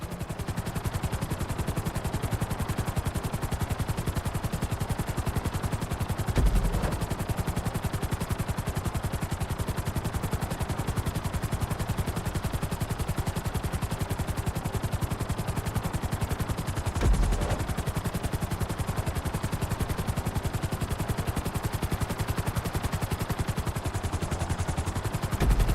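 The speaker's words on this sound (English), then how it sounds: "Bring the helicopter down gently onto the helipad." A helicopter flies in GTA V, its rotor chopping steadily and loudly in a dense, even drone for nearly half a minute, with a couple of dull thumps and no speech.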